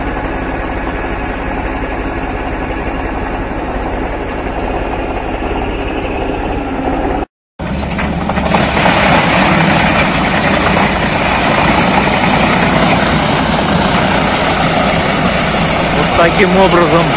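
Wood chipper driven by an MTZ tractor crushing logs into chips, a loud continuous grinding engine roar that cuts out briefly then resumes harsher and denser, with a voice speaking over it.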